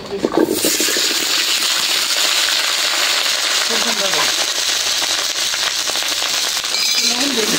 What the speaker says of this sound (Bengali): আলু প্রথমে দিয়ে দিলাম আলু, আলুটা বাইজে নেব